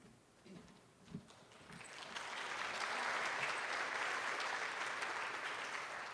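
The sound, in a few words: hesitant audience applause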